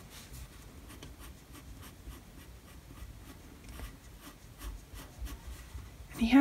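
A pencil draws short fur strokes on paper, making faint, quick, repeated scratchy rubs in an uneven rhythm, quiet and close.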